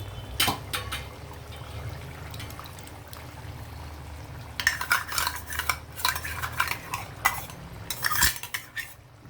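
A spoon stirs gongura chicken curry in a metal pot after water from rinsing a mixer jar is added, with scraping clinks and wet sloshing that grow busier and louder in the second half.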